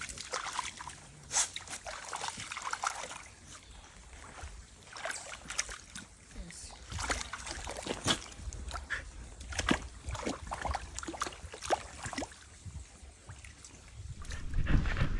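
A dog wallows and thrashes in a muddy puddle on a mountain trail, giving irregular close sloshes and splashes over about fifteen seconds of faint background.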